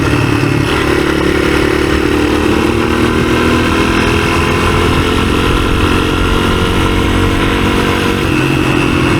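A 1983 Honda XR200R dirt bike engine that had sat unused for years, running close and loud with a steady mechanical clatter while revving up and holding high revs, no talking.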